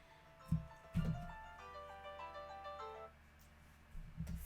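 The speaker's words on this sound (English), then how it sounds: "Phone rang right when the live started." A mobile phone rings at a live-streamed bead box unboxing, a melodic ringtone of rising and falling tones playing for a few seconds between soft nearby bumps and handling knocks, with no talking.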